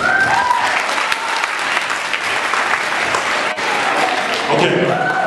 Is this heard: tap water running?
no